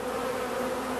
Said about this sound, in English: I noticed there are bees constantly coming and going here at the entrance to the hive.